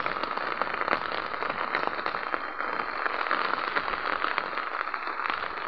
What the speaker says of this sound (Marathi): पाऊस आता वाढण्याची शक्यता आहे